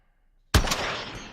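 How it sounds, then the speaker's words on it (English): A single sharp burst of distant gunfire cracks out in the video game Warzone. It rings loud for its distance and trails off in a short echoing tail. "you can hear gunfire like that"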